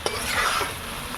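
Snail meat masala frying in oil as water is poured in and stirred, giving a steady close sizzle with scraping spoon strokes across the pan.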